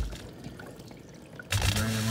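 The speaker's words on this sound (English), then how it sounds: "So I'm gonna drain it now. Just switched it over to drain." A GE dishwasher starting to drain: after a quiet stretch with faint clicks, a sudden rush of water and a low pump hum begin and continue steadily, close and moderately loud.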